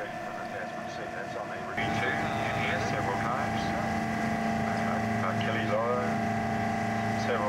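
A sightseeing boat engine drones steadily with a constant hum and wind noise among towering fjord walls in New Zealand's South Island, growing louder partway through while people talk faintly.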